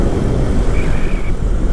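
An Indomobil Adora electric scooter, styled like a moped, pulls away at full throttle, giving a loud, steady rush of road and wind noise with a faint rising motor whine lasting under two seconds.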